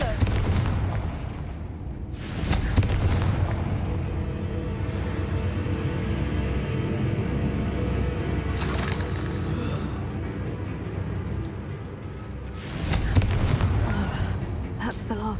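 Confringo fire spell blasts in the video game Hogwarts Legacy, heavy booming bursts at the start and again near the end, with a rumbling blast layer throughout and game voices and sound mixed in.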